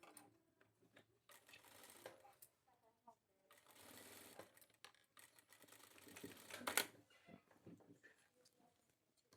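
Sewing machine stitching seams on a shirt, its motor whirring in short bursts and longer runs between pauses, close and fairly quiet.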